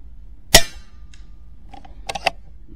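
A single sharp, close crack of a Skout Epoch air rifle shot, followed after a quiet gap by a few faint metallic clicks.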